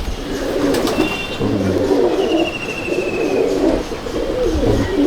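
Old-line Madrasi pigeons coo in a loft, with several overlapping low throaty rolling coos repeating close by and a brief thin chirp, steady and moderately loud.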